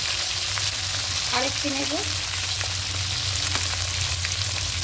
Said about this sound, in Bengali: এবার এখানে কিছু মশলা দেবো, আদা রসুন পেস্ট